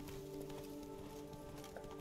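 Horse hooves clip-clopping in The Witcher 3: Blood and Wine, soft repeated hoof steps in a faint, steady rhythm beneath a low humming game soundtrack.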